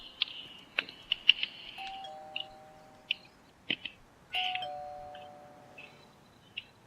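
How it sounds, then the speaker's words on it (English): Two-tone ding-dong doorbell ringing at a house door, heard twice with a few seconds between rings, each chime ringing out and fading over faint background ambience. "I'll go in and ring the bell then."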